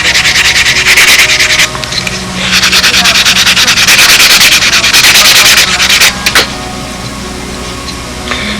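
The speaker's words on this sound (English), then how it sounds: "we might just need to take a couple of swipes with the sandpaper here" Sandpaper scrubbed by hand across a wing fitting on a 2004 Windy aircraft during wing-to-fuselage fitting, loud rhythmic rasping strokes in long bursts with short pauses, close and alone without speech.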